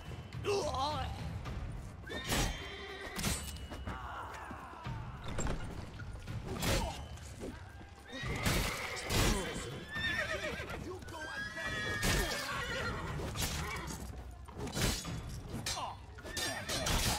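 Horses neigh and whinny repeatedly amid clip-clopping hooves and creaking mechanisms in The Witcher 3 Blood and Wine, a busy loud in-game scene with ongoing dialogue.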